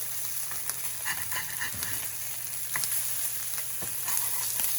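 Scallops sear in butter in a hot pan with a steady close sizzle and crackle, broken by a few sharp pops and clicks.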